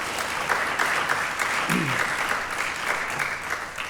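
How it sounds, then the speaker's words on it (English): An audience applauds inside the Rothko Chapel at an MLK birthday observance event, a dense, steady clapping from a crowd that holds evenly throughout, with a brief voice faintly audible in the middle. "So let's give them all a big round of applause."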